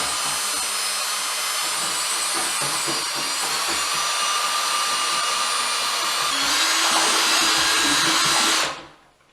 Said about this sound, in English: you've got a paint mixer on a drill